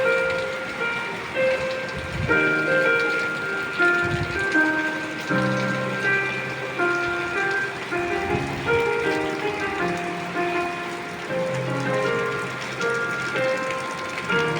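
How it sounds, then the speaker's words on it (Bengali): Heavy rain pours down steadily, a dense continuous wash of sound across the whole stretch, with a tonal hum running beneath it and no speech. "বৃষ্টির কারণে এখন বের হওয়া যাচ্ছে না, ভিডিও বানাতে আইসা আমরা সব আটকা পড়েছি, সেরকম বৃষ্টি হচ্ছে।"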